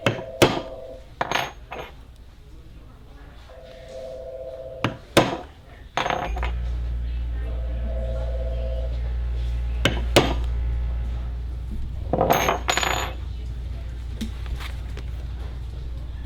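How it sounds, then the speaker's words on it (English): Metal decorative cut stamps struck with a hammer, giving several sharp metallic clanks in small clusters with a low steady hum running underneath through the middle of the clip. "I'll stamp them so that you can see what they are."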